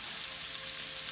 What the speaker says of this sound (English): we got some sizzle and pop going on here